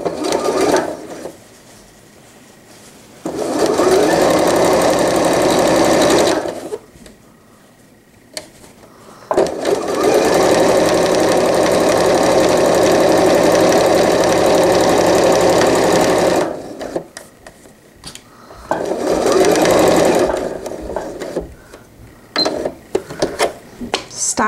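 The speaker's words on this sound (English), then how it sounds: "Stop with the needle down, pivot when you get close to the edge, and I only went maybe 4 stitches down" A sewing machine stitches a welt pocket opening in three loud, close bursts of steady whirring, the longest in the middle, separated by brief pauses.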